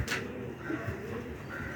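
Pigeons kept for sale cooing softly in a loft, low throaty coos under a breathy, rustling background with a brief bright flutter near the start, no talking.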